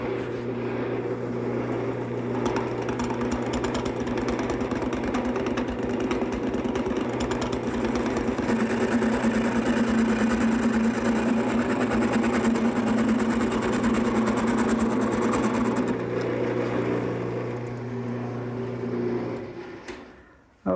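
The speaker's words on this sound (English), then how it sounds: "The first thing to do is to round over the center part to the maximum diameter using my gouge" A wood lathe spins a table leg blank while a gouge rounds over the center section, giving a steady, loud mechanical hum and whirring scrape that continues evenly for about twenty seconds before winding down at the end.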